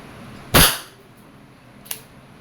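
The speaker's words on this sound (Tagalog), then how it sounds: "Okay, we'll be using the single action. I am 2 meters away from the target. Indoor, firing." A WG 708 airsoft revolver fired single action indoors at a target two meters away: one sharp, loud crack with a short decay, then a small click about a second and a half later.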